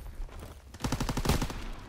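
A quick burst of rapid video game gunfire, several sharp shots in fast succession lasting about a second, loud and close.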